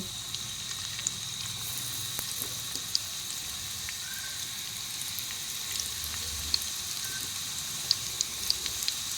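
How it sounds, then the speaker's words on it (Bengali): Chicken pieces frying in hot oil for an egg chicken chowmein, a steady close sizzle with small scattered pops and crackles, no talking. "এরপর আমি এর মধ্যে চিকেনের টুকরোগুলোকে ভেজে নেব।"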